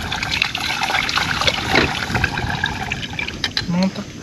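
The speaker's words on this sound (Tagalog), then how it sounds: "Hugasan na natin tong kanin natin. Dito lang natin yung tubig. Diyan yan babagsak sa baba." Water pours and trickles while rice is rinsed outdoors at a highland campsite, a steady close splashing and dribbling with a speaker talking over it.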